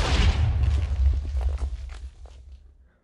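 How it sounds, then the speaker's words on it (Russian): A deep explosion blows up a portal in Minecraft, a loud close boom with crackling debris at the start that rumbles and fades out over a few seconds, with no talk. "осталось взорвать этот портал к чертовой бабушке"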